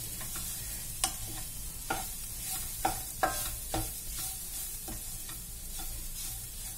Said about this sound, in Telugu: పచ్చి కొబ్బరి వేసాం కదా, గరిటెతో ఒకసారి బాగా మిక్స్ చేసుకుందాం.